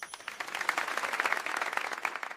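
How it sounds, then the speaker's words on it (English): Dense applause and clapping as a sound effect in a children's drawing show, a steady burst of many hands lasting a couple of seconds with no voices over it. "Give yourself a big clap!"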